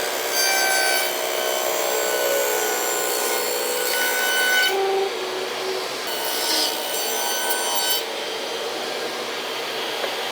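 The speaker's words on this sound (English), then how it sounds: "we want to send this through the table saw and put a bevel on the top" A table saw cuts a bevel along a piece of wood, a loud steady whining rasp of the blade through the board that shifts in tone midway, heard alone without talk.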